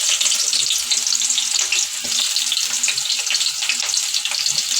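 Onions sizzling and frying in hot oil in a pan, a steady close hiss with faint crackles and occasional stirring scrapes, no talk.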